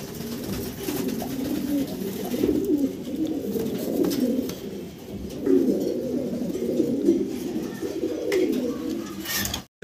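A big-sized pair of jet-black fancy pigeons coos steadily at close range, their low, rolling calls repeating in overlapping phrases throughout with faint background noise.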